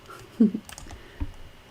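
Keys on a computer keyboard tapped during a design software session, a few scattered quiet clicks and taps with gaps between them, close by and without talk.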